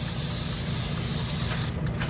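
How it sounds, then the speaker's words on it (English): A steady, loud hiss from an olive oil aerosol spray held close over tomato slices for an air fryer, lasting under two seconds before stopping, followed by a couple of faint clicks. "spray the tops with some olive oil spray"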